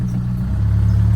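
A Volkswagen Jetta TDI diesel engine, with a check engine light on and an EGR fault, runs steadily close by as a loud, low, throbbing drone with a slight clatter and no talking.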